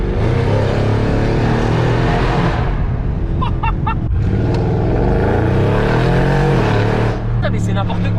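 A Mercedes ML63 AMG rated at 607 horsepower roars loudly and continuously up close, its deep engine note surging as it revs, with voices talking alongside.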